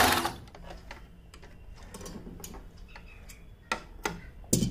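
A sewing machine stitches small fabric pieces for a handmade button, giving a faint run of quick ticking needle strokes, with a few sharper clicks and taps from handling near the end.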